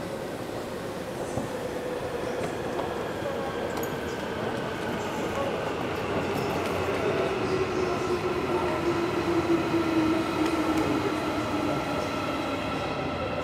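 Steady rumble of an airport train in motion, a continuous low roar with a faint rising whine of wheels, riding along without pause.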